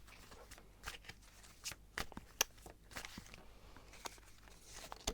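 Tarot cards being shuffled in quick riffling bursts, soft papery flicks and taps spread across several seconds, close by and fairly quiet, with no talking.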